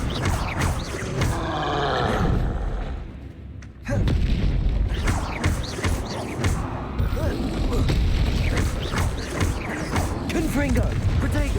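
Repeated fiery spell blasts from Hogwarts Legacy combat, booming bursts layered with clattering mechanical crunches and game effects, loud and continuous over a busy battle bed, with a brief lull before the blasts resume.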